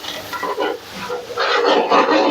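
Onions, black pepper and cumin are stirred and fried in oil for a mutton paya dish, with close scraping stirs in uneven bursts over a steady sizzle.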